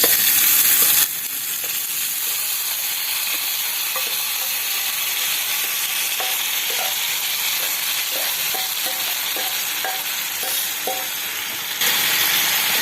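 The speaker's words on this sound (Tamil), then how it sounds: "இப்போ கொத்தவரங்காயை போட்டுடலாம்." Cluster beans fry and are stirred in a pan with mustard seeds and curry leaves, giving a loud, steady sizzle with repeated soft scraping taps of the stirring spoon throughout.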